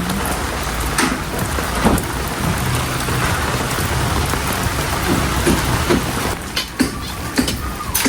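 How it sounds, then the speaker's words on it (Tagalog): Heavy rain pours steadily and loudly on surfaces nearby, a dense continuous hiss with occasional louder spatters. "medyo lumakas po ang ulan"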